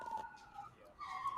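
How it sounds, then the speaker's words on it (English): Emergency vehicle sirens wailing nearby, their tones fading briefly and then swelling again as they approach, faint against a quiet room with some talk. "Sorry for the sirens."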